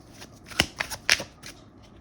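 Tarot cards shuffled briefly, a few quick crisp riffles and flicks close by, quiet, no talk.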